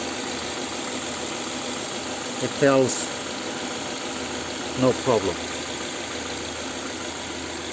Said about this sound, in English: You see the noise of the engine.